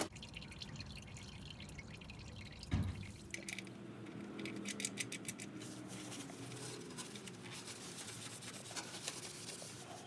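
5W30 motor oil drains from the oil pan of a 2018-19 Chevy Colorado ZR2 3.6 V6, a faint steady trickle and drip into a pan with a small knock partway through.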